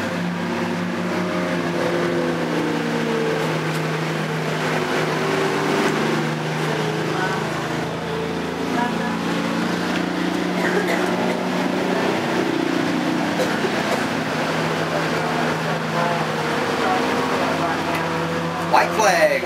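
Race cars roar around the Diamond Park Speedway track during a novice feature race, a steady, continuous engine drone carrying under an announcer calling the action over the public address.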